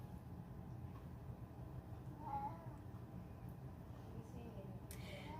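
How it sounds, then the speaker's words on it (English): A cat indoors gives a single faint, brief meow partway through, under steady background noise, with a person talking nearby. "I do not know what that cat wants."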